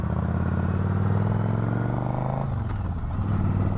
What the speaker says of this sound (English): Now a more non-aggressive acceleration from a U-turn.